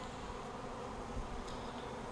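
Swarm of honeybees buzzing inside a hive box, a steady low hum that stays soft and unbroken throughout.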